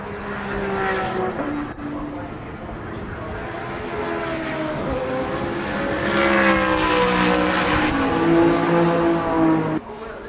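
Race cars, including a Radical and a BMW, scream past one after another on the Rockingham circuit during an endurance race, engine notes rising and falling with Doppler sweeps, loud and close.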